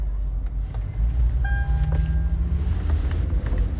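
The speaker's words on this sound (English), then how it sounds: "I'm driving again." A car is being driven, with a loud, steady low engine and road rumble filling the interior and a few faint tonal whines above it.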